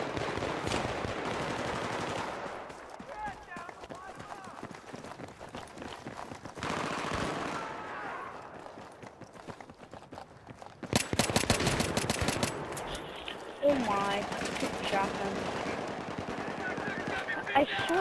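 A PKP machine gun fires sustained bursts in Battlefield 3 amid heavy battlefield gunfire, with loud rapid rattling stretches broken by pauses and a voice talking over parts of it.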